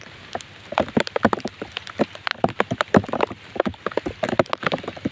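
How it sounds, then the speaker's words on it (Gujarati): Rain falling on an open groundnut farm, with dense, irregular drops pattering close by on leaves and surfaces, steady and fairly loud throughout with no talk. "વરસાદ શરૂ થઈ ગયો છે"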